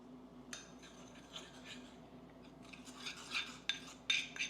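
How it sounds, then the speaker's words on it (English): A spoon mixing Mi Goreng noodle sauces in a bowl gives faint, close clinks and soft scraping, with a few sharper taps of metal on the bowl near the end. "Just mix it really well with a spoon."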